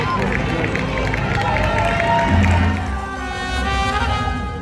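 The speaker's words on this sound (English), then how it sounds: "People are now getting to the finish line and everyone is cheering them up." Crowd noise at a marathon finish line in Naples, a steady loud wash of cheering and babble as runners arrive, sustained throughout with a brief swell midway.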